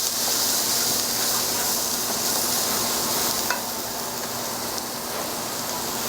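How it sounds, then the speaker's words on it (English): Vegetables sizzle loudly in a hot pot for bouillabaisse, a dense, steady hiss that stays close and constant, with one brief stir. "Give that a little stir."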